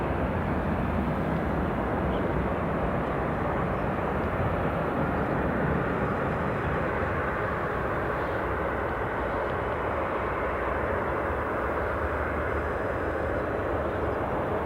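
A heavily laden airliner departs from Edinburgh Airport with a dense, steady low rumbling roar that holds evenly throughout at moderate loudness, with no talk.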